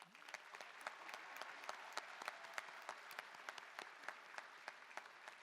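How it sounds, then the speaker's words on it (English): An audience at a 2021 high school graduation ceremony applauds the valedictorian with steady, dense clapping that sounds fairly distant and soft, with a few sharper claps standing out. "Let's give him one more round of applause"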